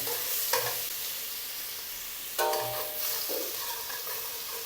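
Chilies and garlic fry in hot oil for a Gujarati patra dish, giving a steady close sizzle with a couple of brief stirring clatters and no talk.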